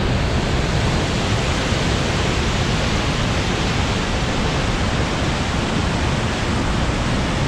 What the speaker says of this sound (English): the water comes through this very narrow canyon